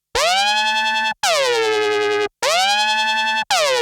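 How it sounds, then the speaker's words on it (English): A synthesizer plays four held notes in a row, each with a sweeping, wobbling filtered tone from LFO modulation of the filters that swells and bends, separated by short gaps. "they've got travel vibrato active, which is LFO modulation of the filters"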